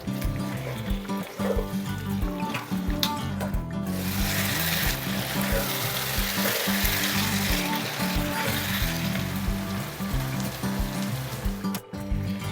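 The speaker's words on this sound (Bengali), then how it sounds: "দিয়ে দিচ্ছি ফ্যাটানো দই চার টেবিল চামচ নেড়েচেড়ে ভালো করে মিশিয়ে দেবো এবং হালকা আছে তিন মিনিটের মতো আমরা কষাবো" Chicken bhuna cooking with whisked yogurt in a pan, a dense steady sizzle and bubbling as it is stirred, close and constant with brief knocks of the spoon.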